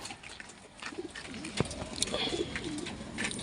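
Soft, low pigeon coos repeating among a busy background of rustling and faint bird noises.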